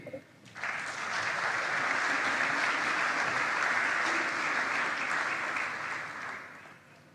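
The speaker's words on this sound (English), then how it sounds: "Another round of applause for our first set of statements" An audience at a conference opening ceremony breaks into sustained, dense applause that swells quickly, holds steady for several seconds and then fades away.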